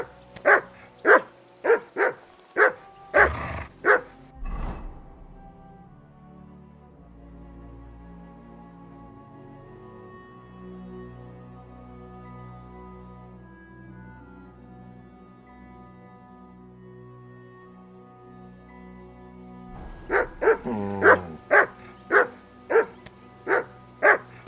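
A dog in the video game Kingdom Come Deliverance 2 lets out a quick run of loud, close barks, then goes quiet while a soft sustained musical background plays. It starts barking again in another rapid burst near the end.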